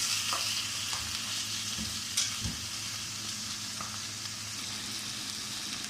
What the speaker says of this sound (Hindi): इसको हमने 10 से 15 मिनट कर भूनना है।